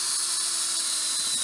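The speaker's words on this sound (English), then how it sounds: "nothing's more fun than drilling holes in a perfectly good roof" A power drill bores holes through an RV roof during a solar panel installation, giving a steady, loud, high-pitched whine that holds unbroken throughout with no talk.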